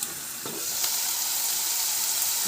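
Tomato, onion and curry leaves sizzle in a tempering over a low flame, a close, even hiss with a couple of faint stirring knocks.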